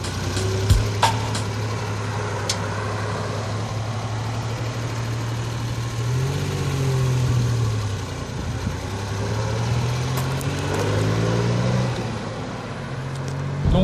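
A Citroën SM with Frua coachwork, a one-off car, idles steadily with a low engine hum that rises and falls a little in pitch, close and continuous, with no one talking.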